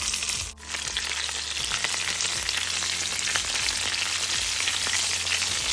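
Black pepper, curry leaves and spices sizzle loudly in hot oil for brinjal pickle, a dense steady crackle with soft stirring scrapes and no voices.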